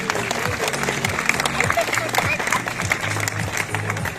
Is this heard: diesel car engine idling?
no